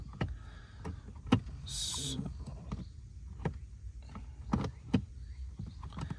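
Blend door actuator motor in a 2014 Dodge Durango running briefly with a faint whirring hum, surrounded by quiet clicks and knocks of handling nearby, close and low in level, no talk.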